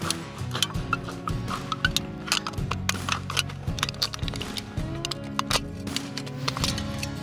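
Scissors snip and crunch through a thin aluminium drink can for a homemade camping alcohol stove, Böker Solingen tools, in quick irregular cuts with crinkling metal, close up and without talk.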